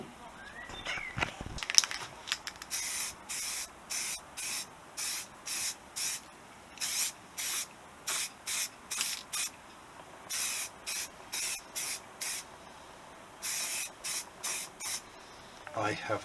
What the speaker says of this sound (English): I'm going to use rust remover into the very corners where some of the rust remained.